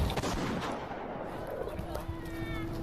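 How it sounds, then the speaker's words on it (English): A loud, close gunshot bursts out amid noisy, overlapping voices, followed by rumbling noise and a thin lingering tone. "is it a gunshot?"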